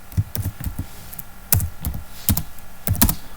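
Bursts of typing on a computer keyboard as code is entered into the R editor, clusters of crisp keystrokes separated by short pauses, close and clear with no talking.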